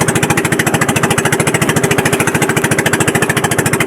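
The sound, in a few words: Honda engine on a fishing boat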